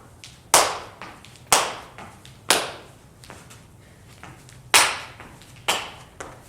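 Sharp single hand claps during a heel kick workout exercise land at irregular intervals, about six crisp slaps over a quiet room background with faint soft taps between.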